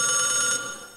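A telephone rings with a bright electronic bell, a loud, close trill that cuts off about halfway and leaves a fading ring behind it, with no talk.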